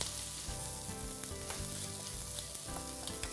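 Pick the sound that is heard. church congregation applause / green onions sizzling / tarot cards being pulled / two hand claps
green onions sizzling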